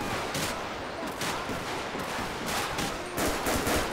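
Gunfire in the video game GTA 5 during a police gang unit patrol, rapid repeated shots in bursts over continuous background game noise, fairly loud with no talking.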